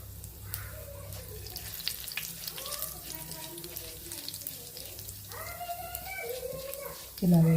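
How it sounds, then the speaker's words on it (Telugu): Mustard seeds, urad dal, coriander and cumin fry in hot oil for an Andhra gongura chutney tempering, a steady crackling sizzle running under a person talking throughout. "ముందుగా ఆవాలు, మినపప్పు, ధనియాలు, జీలకర్ర ఇవన్నీ ముందుగా పోపు దినుసులు ఇలా వేసుకోవాలండి"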